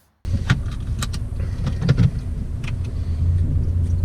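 A Volkswagen CC Sport pulling away on a drive, its engine and road noise forming a steady low rumble that rises slightly toward the end, with a few brief clicks and knocks from the cabin.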